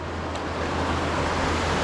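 A swift river torrent rushes past along a riverside trail, a dense, steady roar of moving water heard up close with no pauses, filling the whole moment.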